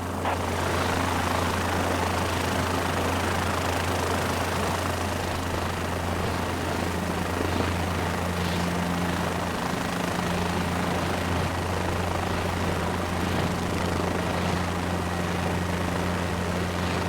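A helicopter in a video game lifts off into a hover, its rotor and engine making a steady, loud, droning whir with a low hum that holds for the whole span, with no talk.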